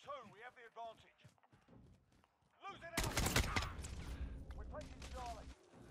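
Rapid gunfire bursts in Call of Duty Modern Warfare crackle loudly for a few seconds after a quieter stretch, then settle into a dense rumble of shots and movement, with a player talking just before.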